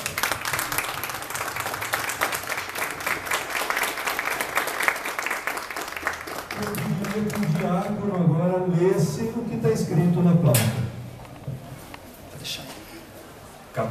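Churchgoers at a parish ceremony for a chapel plaque unveiling give a loud round of applause that carries for several seconds, then thins as people begin talking and a louder voice rises over the fading claps.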